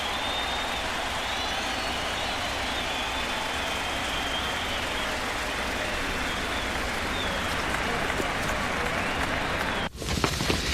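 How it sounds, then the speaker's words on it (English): Big stadium crowd at a 2011 White Sox baseball game applauding a pitcher, a broad sustained wash of clapping and cheering at even loudness, cutting off abruptly near the end. "Ivan Nova should receive a nice hand on the big stadium crowd."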